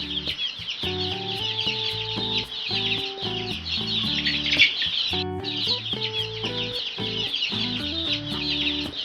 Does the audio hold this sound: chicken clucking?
yes